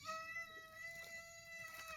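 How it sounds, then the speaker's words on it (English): Faint cat meowing heard at a distance behind steady background hum, somewhere in a home where a twig wreath is being made, soft and drawn out rather than sharp. "Oh, can you hear the cat?"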